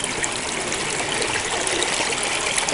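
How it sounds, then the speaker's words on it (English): Spring water runs over a trail crossing on the Pinhoti Trail between two mountains, a close, steady rushing burble with no talking. "Here's a little spring crossing."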